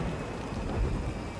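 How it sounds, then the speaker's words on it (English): Torrential rain from a savage thunderstorm over downtown Auckland, New Zealand, a dense steady roar of heavy rainfall with low thundery rumbling underneath, loud and unbroken. "A savage thunderstorm blankets downtown with torrents of rain."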